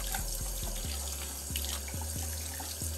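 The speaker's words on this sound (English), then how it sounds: "All I'm really doing now is just rinsing it off." Steady water from a running tap rinses Balenciaga Mold slides in a sink, a continuous close splashing hiss broken by regular low thumps as the shoe is moved under the stream.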